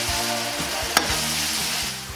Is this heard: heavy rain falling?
no